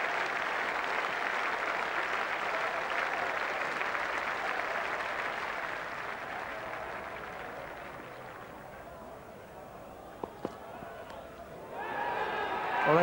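A cricket crowd at Trent Bridge applauds West Indies batsman Brian Lara as he passes 150. The sustained clapping gradually fades, then swells again at the end, with a commentator's voice faintly present.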